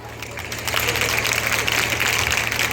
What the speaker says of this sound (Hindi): हम लोग ताली क्यों बजाते हैं?